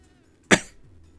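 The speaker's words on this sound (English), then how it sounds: "obligatory cough to prove I'm not well." A single short, sharp cough close up from a person who is ill, with quiet room tone before and after.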